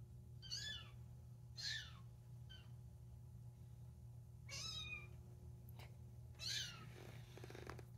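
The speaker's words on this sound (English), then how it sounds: "What are you meowing at?" A cat meows several times, close and fairly quiet, with pauses between calls over a low steady hum.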